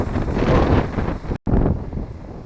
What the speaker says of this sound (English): Awfully windy though.